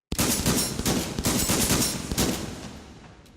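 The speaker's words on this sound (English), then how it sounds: "And that's how to fire the M1014." Rapid gunfire from an M1014 shotgun in a video game, a dense burst of sharp close blasts running for about two seconds before fading into a decaying tail, with no talking.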